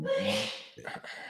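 A single person sneezes close to the microphone during a sports podcast: a drawn-in breath followed by one short, explosive burst.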